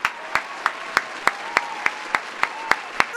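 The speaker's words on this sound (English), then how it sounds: "Please, everybody stand up and rise and clap Furlong Mendy." Slow, evenly spaced hand claps sound about three times a second, sharp and close, in a crowd-style call to rise and applaud.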